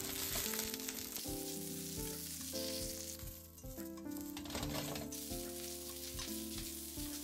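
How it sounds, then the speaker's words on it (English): Daikon radish skin stir-frying in sesame oil in a heated pan, a loud close crackling sizzle with intermittent stirring scrapes and clatters, no voices. "Once the pan is heated, I add the daikon skin."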